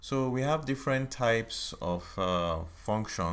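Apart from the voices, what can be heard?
No distinct noise like a dog, phone or traffic.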